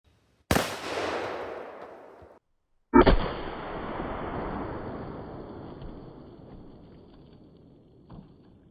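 Two loud break-action shotgun blasts ring out a couple of seconds apart, exploding water jugs, each followed by a long rolling echo that slowly fades, with a faint knock near the end.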